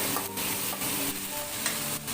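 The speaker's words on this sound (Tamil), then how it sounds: "இப்போ இதை தாளித்து விடுறதுக்கு இந்த பட்டை, கிராம்பு, ஏலக்காய் போட்டுக்கலாம்" Cinnamon, cloves and cardamom sizzling in hot tempering oil for a Tamil-style egg curry gravy, a steady broadband fry hiss with a few stirring scrapes, close and continuous with no talking.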